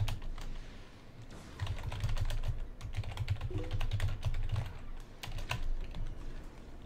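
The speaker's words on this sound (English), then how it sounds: "Just gonna type that in the chat." Rapid keyboard typing on a computer keyboard as a chat message is entered during a Star Wars: Galaxy of Heroes session, steady clattering keystrokes close up, continuous over a low background hum with no talking.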